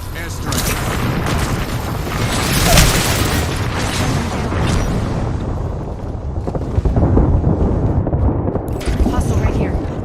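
Airstrike blasts rumble through a multiplayer shooter game, heavy booming explosions rolling one into another across the whole stretch, loud and dense, with players talking over them.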